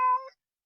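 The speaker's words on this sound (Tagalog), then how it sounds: "Sabi nang ayoko na may pusa dito eh." A cat gives one short, clear meow, close and fairly loud, with a tonal rising-then-falling cry that ends abruptly into silence.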